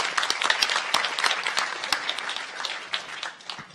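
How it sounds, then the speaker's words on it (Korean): Steady applause from a sizable audience at a public audition, dense and continuous, with a few louder individual claps standing out before it gradually thins toward the end. "따뜻한 박수 부탁드립니다"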